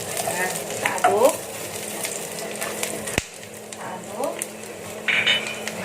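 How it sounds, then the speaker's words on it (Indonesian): Crushed garlic cloves fry in hot oil in a pan for a tamarind prawn dish, a steady sizzle broken by several scraping stirs of a utensil, with a single sharp knock against the pan. "Lalu kita masukkan 2 bongkol bawang putih yang tadi, yang hanya dikeprek aja itu ya. Nah, kita aduk."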